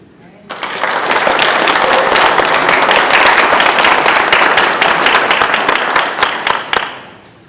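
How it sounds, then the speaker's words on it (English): Audience applause at a candidate forum, a dense burst of clapping that starts abruptly, holds steady and loud for several seconds, then thins into a few scattered claps and fades. "Let's have a big round of, I'm impressed. A big round of applause."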